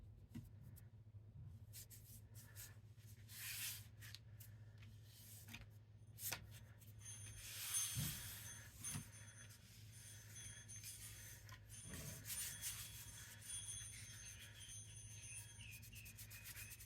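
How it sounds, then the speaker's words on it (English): Soft rubbing and scuffing as glue is rubbed off a mirror by hand, faint, close, irregular strokes with a few louder swipes in between, no talking. "just rubbing some of the glue off the mirror"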